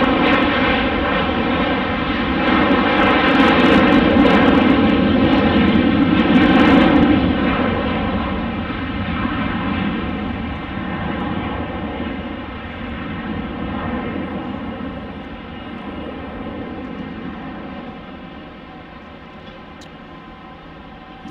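An Airbus A320neo jet on departure, its engines making a loud, steady roar with a whining tone that swells, then slowly fades as the aircraft climbs away.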